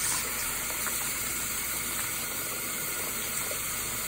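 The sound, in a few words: water rinsing a makeup brush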